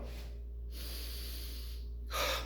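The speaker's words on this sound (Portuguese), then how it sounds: "Se eu for fazer uma respiração profunda, eu vou fazer isso aqui, ó." A deep breath is drawn in as a demonstration, a soft airy inhalation that ends in a brief, sharper snort-like intake, close and quiet with no talking.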